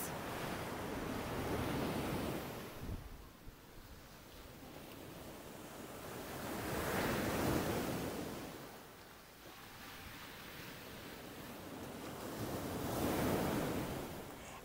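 Ocean waves wash onto a beach in slow, regular swells, each surge building to a broad roar and then easing back, with steady wind noise underneath and no voices.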